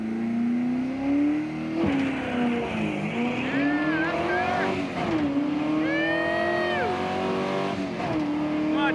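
A budget drag race car launches hard off the line, its engine roaring loud and close as it climbs through gear changes with rising and falling pitch, while people shout and talk over it.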